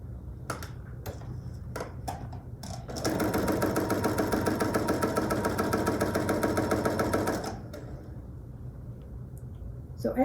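A sewing machine stitches a scrappy quilt block, a fast steady mechanical whir running for about four seconds after a few clicks and handling sounds, close and alone.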